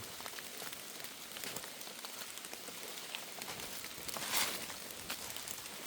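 Steady rain pattering on foliage in a forest, a dense, even hiss of drops with a brief louder gust of splashing near the end, no voices.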